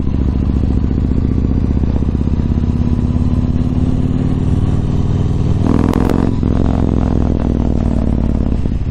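A Yamaha MT-01 motorcycle cruising on a commute, its engine droning loud and steady with a brief rev and clatter burst near the end, wind rumble underneath.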